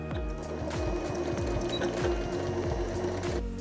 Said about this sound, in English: I'm gonna sew across.